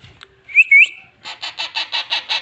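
A pet bird in a cage, hungry, gives a few shrill whistled calls, then a rapid series of about eight evenly spaced chirps, close and fairly loud, with no talk.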